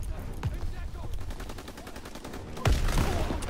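Sniper rifle shots ring out in the Call of Duty WW2 video game, with two sharp cracks, one early and one louder later, over a busy game soundscape of rhythmic background noise.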